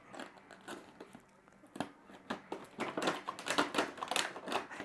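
A Spider-Man #300 McFarlane Toys action figure being popped out of its plastic blister packaging, a run of sharp plastic clicks and crackles that grows louder and busier toward the end.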